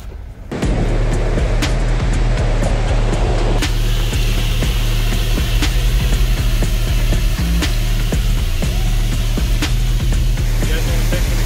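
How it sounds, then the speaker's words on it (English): Steady broadband rush of a waterfall at Dollywood fills the scene, loud and continuous with a low rumble underneath, without speech. "Check out this waterfall."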